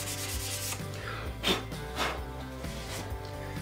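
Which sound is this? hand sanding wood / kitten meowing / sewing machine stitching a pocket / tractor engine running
hand sanding wood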